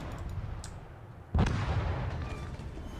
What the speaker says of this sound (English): So I should get him on this salvo